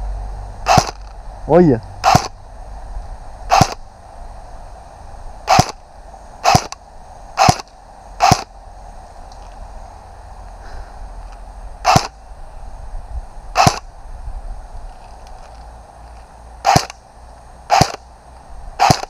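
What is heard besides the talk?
airsoft M4 rifle firing shots outdoors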